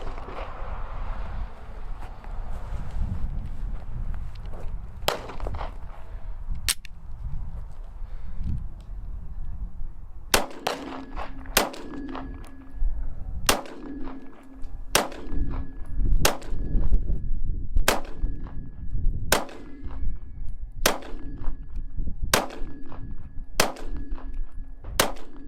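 A Glock 43X pistol firing Blazer ammunition from a Shield Arms S15 magazine lets off about a dozen sharp, loud gunshots, first a few spaced out and then a steady run of evenly timed shots, each with a ringing metallic tail.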